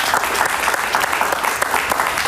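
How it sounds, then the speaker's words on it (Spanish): Studio audience applause on a Spanish-language talk show, a loud, dense burst of many hands clapping steadily close by for a couple of seconds. "Un aplauso para ella,"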